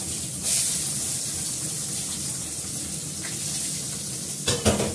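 Onion and bay leaves fry in a pan with a steady, close sizzle that holds evenly throughout, ending with a few brief clatters, and no one speaks.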